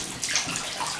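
Water rushes and gurgles steadily down a shower drain in an apartment, a close, continuous hiss that swells slightly partway through.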